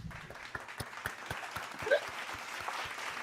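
Applause is played as a sound effect, a scattering of separate claps over a soft crowd murmur, fairly faint and ragged throughout.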